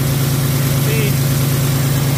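A PACCAR MX13 truck engine with excessive coolant pressure from a compression leak runs steadily, a loud, constant low idling drone with a pulsing hum, close and unbroken.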